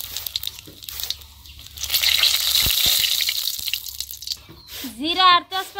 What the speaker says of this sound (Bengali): তেল গরম হয়েছে, এখন দিব কালি জিরা আর জিরা একসাথে মিক্স করা।